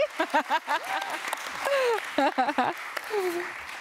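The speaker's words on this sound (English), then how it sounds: "Round of applause with a lot of energy" Audience at a fashion and sustainability talk event applauds energetically, with loud whoops and cheering voices riding over the clapping in several bursts throughout.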